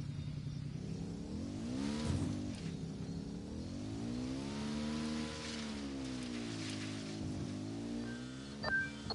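A motorbike engine in the video game Ghost Recon, a steady close drone that rises and falls in pitch as it revs and shifts, running continuously with no talk.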